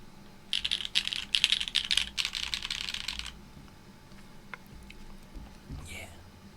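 A mechanical keyboard with an aluminium plate and GMK Shoko keycaps clacks in close, brisk bursts of typing for about three seconds, then quiets to faint scattered sounds.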